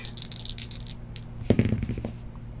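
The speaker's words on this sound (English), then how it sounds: "All right, let's do a little dice roll real quick." Dice rattle and clatter in a quick burst of crisp clicks during a 2019 Unparalleled Football trading-card box break, followed by a steady low hum and some faint handling noise.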